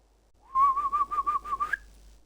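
A person whistles one wavering, tremulous note for just over a second, close and fairly loud, with a quick upward slide at the end.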